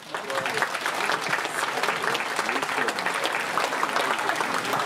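Audience applause at a traditional Korean wedding ceremony for an international couple, a dense, steady clapping from a crowd that fills the space loudly and continuously for several seconds.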